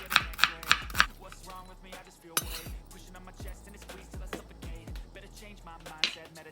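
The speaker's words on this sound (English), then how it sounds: "let's cut a medium onion into strips" A knife cuts a medium onion into strips on a cutting board, giving a close series of sharp, quick chopping taps in irregular bursts with small pauses between strokes.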